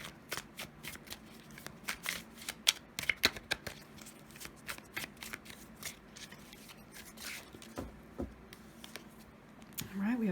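Tarot cards being shuffled and drawn by hand: close, quiet bursts of riffling and sharp card snaps and flicks in irregular clusters, with soft handling sounds between them.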